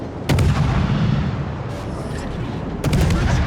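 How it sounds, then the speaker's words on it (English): Heavy battleship guns boom in a naval battle in World of Warships, two sharp salvos standing out against a constant loud roar of combat noise, with no talking. "I opened fire on the second Iowa"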